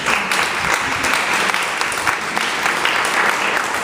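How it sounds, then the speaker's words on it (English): Audience applause at an International Women's Day event, a full, continuous round of clapping from a crowd, fairly loud and even throughout with no talk over it. "Big round of applause to you."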